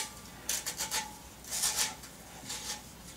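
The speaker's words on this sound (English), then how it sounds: "We'll remove the gasket by just working underneath it with the blade." A blade working under the gasket of a Klipsch KD15 speaker passive radiator makes faint, close scraping rasps in short irregular strokes, clustered in three bursts, with no talking.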